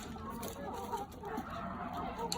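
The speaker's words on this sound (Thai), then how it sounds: "เดี๋ยวเราให้อาหารไก่ก่อนนะคะ" Egg-laying hens in a farm coop cluck continuously, with overlapping calls from several birds close by and some faint background noise.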